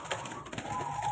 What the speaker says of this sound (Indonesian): Ini kan perkutut gelabakan, giras.